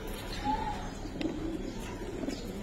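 Giribaz pigeons, silver and colored birds, coo in soft low repeated calls nearby over a steady background hum, several gentle cooing phrases spread across the stretch.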